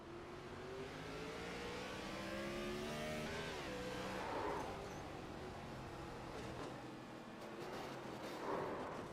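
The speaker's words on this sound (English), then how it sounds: "Definitely some spinning tires there." A race car in iRacing at Charlotte spins its tires: the engine revs steadily with a rising, then falling whine, a continuous loud drone with faint crackles near the end.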